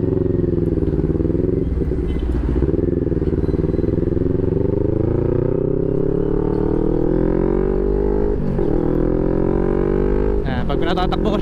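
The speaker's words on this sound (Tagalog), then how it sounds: "Pag pinatatakbo ko siya, ayan, parang normal lang motor lang siya." A 2021 CFMOTO NK400 motorcycle engine runs steadily and close, a loud, dense throbbing drone with slight rises in pitch as the revs shift, continuous throughout with a brief harsher surge near the end.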